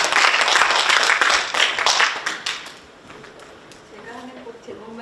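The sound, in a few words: audience applause welcoming a guest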